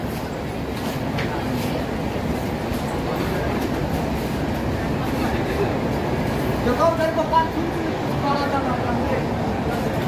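An express train at Vasai Road railway station gives off a low, continuous rumble, with a brief cluster of metallic wheel squeals partway through. It is moderately loud and close.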